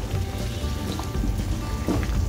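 Mustard leaf saag fries in a pan with a dense, steady sizzle and crackle, spitting pops scattered throughout, loud and close with no voices.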